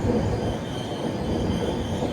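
A train rolls steadily through Nellore South station, a dense, loud rumble of wheels on rail with a high squeal running over it, unbroken from start to end.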